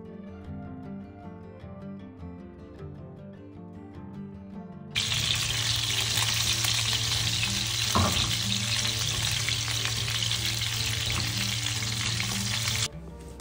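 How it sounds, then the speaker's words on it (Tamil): Chicken frying in oil in a pan, first faint light crackle, then a loud, close, dense sizzle erupts and holds steadily for several seconds before cutting off abruptly, with no one speaking. "இப்போ பார்த்தீங்கன்னா வந்து சிக்கன் ஆல்மோஸ்ட் வந்து 2 சைடுமே நல்லா குக் ஆகியாச்சு."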